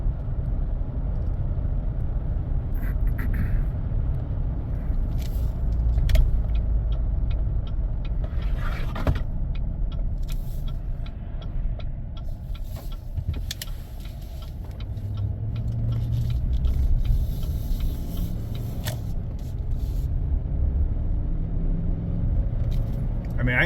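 A 2015 Chevrolet Silverado truck under light acceleration, reportedly stuck in limp mode, gives a steady interior road rumble with scattered clicks and rattles, under someone talking throughout.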